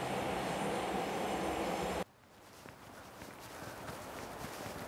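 A subway train rolls along with a loud, steady rushing roar that abruptly drops to a quieter rumble, leaving faint rattles, clicks and a low hum as the ride continues.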